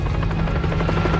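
Steady, loud thudding of helicopter rotor blades in an action-film chase, a fast pulsing beat over a continuous engine drone with no speech.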